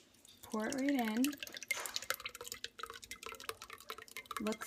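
Kefir is poured into a strainer with soft wet glugs, drips and splatters close by, briefly overlapped by a voice near the start.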